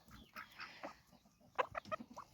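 Chickens and a rooster clucking on a small farm homestead on an ordinary morning, several short close clucks in quick bursts, fairly faint with a soft outdoor background.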